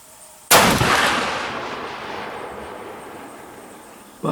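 A Thompson Center Encore .50 caliber rifle fires a single loud, close boom that rolls into a long fading echo, with a second blast starting just at the end.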